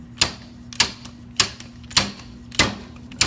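A fork seal is driven down into a motorcycle fork with a fork seal driver, five sharp metallic taps in a steady rhythm about half a second apart, close and clear over a low steady hum, no talking.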